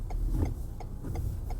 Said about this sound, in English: You can hear the windshield wiper going.